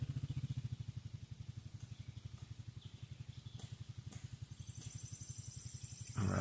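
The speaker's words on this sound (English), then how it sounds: "I got a motorcycle coming in behind me" A motorcycle comes up from behind, its engine throbbing in a steady, rapid pulse. It stays fairly quiet and distant throughout, with a slight rise near the end.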